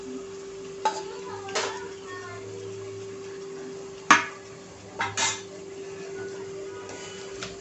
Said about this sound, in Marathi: आपले टोमॅटो छानपैकी आता परतलेले आहेत तेलावरती, मसाले पण।